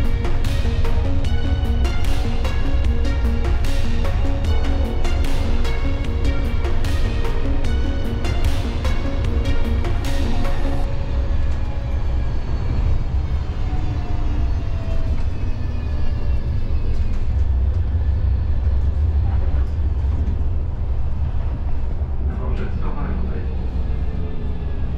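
A Kraków tram pulls away from a stop with a steady low rumble and rising motor whine that drifts in pitch, with clacking over the rails early on and a voice talking over it.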